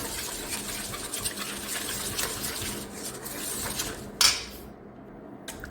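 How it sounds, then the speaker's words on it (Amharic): Clinking and scraping of a spoon against a bowl, steady stirring of Caesar salad dressing thinned with water close by, ending in a sharp clatter. "እዚህ እንደዚህ ሚክስ ታደርጋላችሁ"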